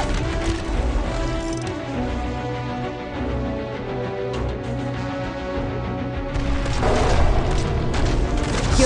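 Dense gunfire and repeated booming explosions from the Arknights video game fill the scene, loud and continuous, with a heavier burst of blasts near the end.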